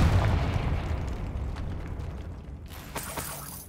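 Confringo fire spell in Hogwarts Legacy bursts as a heavy, rumbling explosion that fades over a few seconds, followed by a sharp crackling pop and scattered debris.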